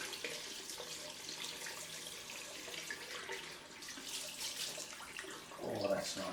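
Bathroom tap running steadily for a cold rinse during a head shave, a continuous close hiss of flowing water with splashing near the end.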